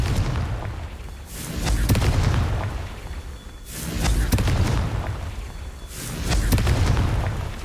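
Confringo blasting spells from Hogwarts Legacy, three heavy booming explosions spaced a couple of seconds apart, each a loud roaring burst that swells and fades into a rumbling tail.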